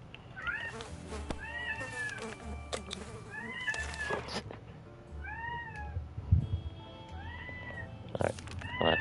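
A house cat meows repeatedly, several distinct rising-and-falling calls spaced irregularly over a few seconds, close and moderately loud amid household background noise.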